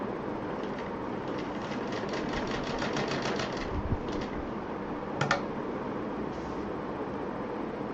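Sewing machine stitching a cord onto a fabric pouch, a rapid mechanical rattle in short bursts, moderately close, with brief pauses and a couple of sharp clicks.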